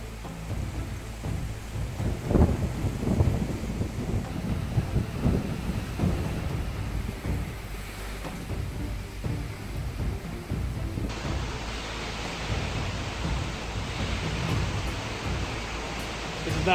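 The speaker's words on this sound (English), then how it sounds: "Wind is picking up, raindrops are falling. We're starting to get a little bit of lightning." A thunderstorm rolls in over a backyard pool with rumbling thunder, gusting wind and a steady hiss of falling rain, loud and continuous throughout.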